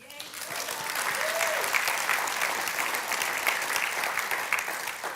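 An audience breaks into sustained, dense applause that builds quickly and holds steady, with a brief voice heard at the start.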